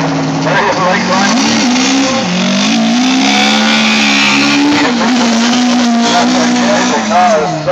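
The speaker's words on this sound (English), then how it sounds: "The car is so sideways on the way down to turn one" A drifting car slides sideways down toward the first turn at a 2011 car show in Limerick, its engine droning loud and close while tires squeal in rising and falling wails throughout. Commentators talk over the noise.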